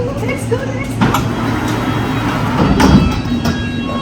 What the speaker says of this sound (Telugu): ట్రైన్ కూడా రెడీగా ఉంది ఎక్కడదామా ట్రైన్